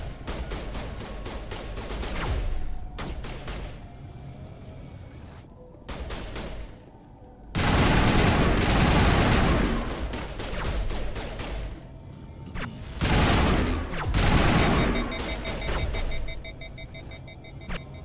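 Sci-fi gunfire in the Mass Effect video game comes in bursts of sharp shots, broken by quiet gaps and followed by loud, dense volleys and rumbling impacts.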